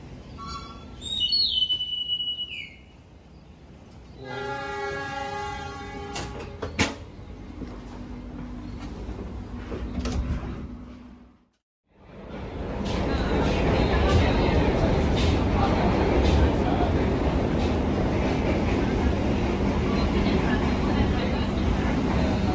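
A Parahyangan passenger train on the Gambir–Bandung line departs: a conductor's whistle and a horn sound first, then after a brief silence the rolling rumble and clatter of the moving train builds into a loud, steady roar.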